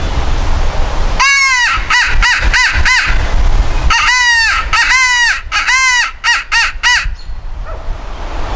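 A Primos hand-blown crow call imitates crow caws in loud, close bursts: a rapid string of four or five caws, a pause, then another series of quick repeated caws.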